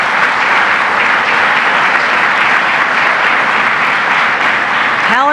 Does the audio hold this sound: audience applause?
yes